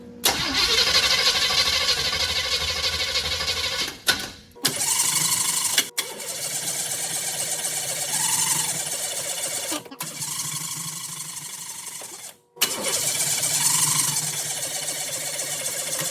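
A 1955 Chevy engine cranks repeatedly in long, loud starter bursts separated by brief pauses, the flooded motor turning over with a rhythmic churning whir but never catching.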